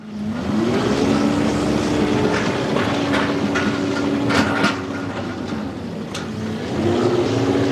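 An 11,730-pound machine rolls over resin bound surfacing, a steady droning engine hum with shifting pitch and faint crunches and knocks, loud and close with no talk.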